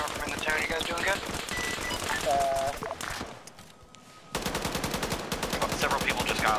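Bursts of rapid machine gun fire from a military video game clatter loudly with other combat noise and voices, dropping away briefly mid-clip before the dense automatic shooting resumes at a steady rhythm.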